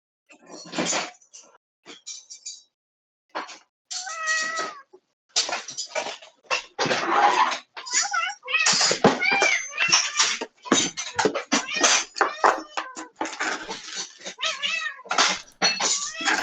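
Several cats meow and yowl repeatedly after being fed, loud close cries in quick irregular bursts with short pauses between them.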